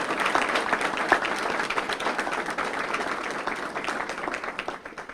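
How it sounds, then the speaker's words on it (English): An audience applauds award winners at a school board meeting, a steady dense round of clapping throughout that tapers slightly at the end. "Let's give all of our award winners one more round of applause tonight."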